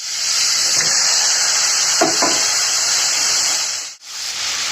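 Cauliflower and potatoes fry in hot oil with a loud, steady broadband hiss and sizzle heard up close, broken by a brief dip near the end.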